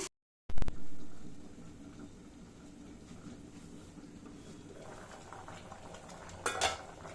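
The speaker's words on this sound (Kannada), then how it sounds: "ಈಗ ಇದು ಚೆನ್ನಾಗಿ ಕುದೀತಾ ಇದೆ" Chicken kurma curry with ground masala and water boiling in a pot, a steady low bubbling rumble throughout after a sharp clatter near the start, with a brief clink of utensils near the end.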